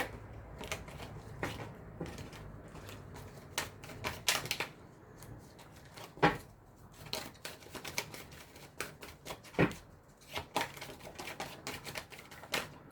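Tarot cards being shuffled and handled, giving steady dry papery riffles and soft taps close by, with no voices.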